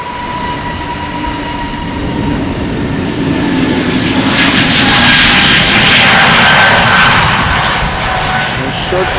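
An Airbus A320neo jet from SAS takes off from runway 36L at Amsterdam Schiphol in showery weather, a steady loud engine roar that swells mid-clip with a rising high whine, a voice speaking faintly under it.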